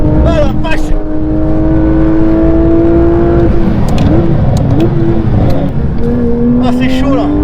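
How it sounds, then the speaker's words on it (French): Porsche 992 GT3 RS engine wailing at high revs on a race track, loud and continuous with pitch shifting through gear changes, while someone talks excitedly over it. "ce moteur qui hurle à la mort derrière"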